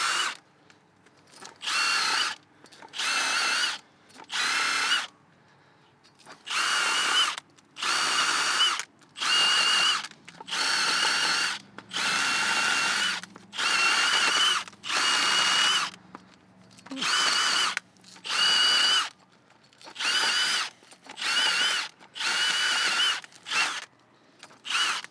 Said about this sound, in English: I'll pop our hub buddy on our impact.